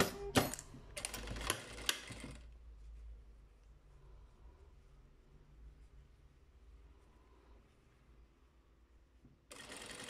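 A domestic sewing machine stitches the side seam of a small long-sleeve Blythe doll t-shirt: a loud rapid burst of needle clatter with a few sharp clicks, then near silence with low hum, before the motor starts again at the end.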